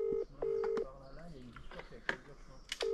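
Phone call ringing tone, a repeated steady electronic ring heard twice in the first second, followed by people talking close by with brief clicks.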